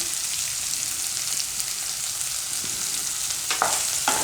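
Water chestnut snack with rock salt stirred in a frying pan: a constant close sizzle with a few sharp spoon scrapes near the end.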